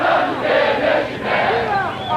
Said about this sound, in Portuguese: E a torcida agora canta o hino do Grêmio.